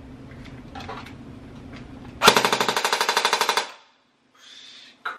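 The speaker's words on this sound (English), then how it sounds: "We just shooting at the bag." An empty high-pressure BB gun fires bursts of air shots at a bag outdoors: a fast, loud volley of about a dozen sharp cracks in under two seconds, followed by quiet and a faint hiss.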